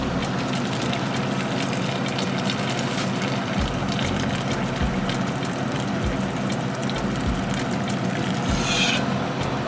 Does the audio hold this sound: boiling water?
yes